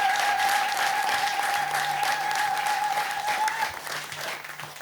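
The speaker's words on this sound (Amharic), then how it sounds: "በንጉሱ ከፍ ያለ ጭብጨባ እንዲያፋ" A church congregation at a special Easter program bursts into loud applause, the clapping dense and sustained at first, then gradually thinning and fading, with a steady electronic tone ringing underneath.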